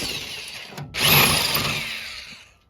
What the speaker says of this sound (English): I'm gonna use that same drill bit that we've been using to pre-drill holes into that piece